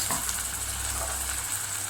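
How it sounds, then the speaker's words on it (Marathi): Coarsely ground green chili kharda paste sautéed in a pan for an egg curry, a continuous close sizzle and hiss without any speech. "हे व्यवस्थित परतवून घ्यायचं।"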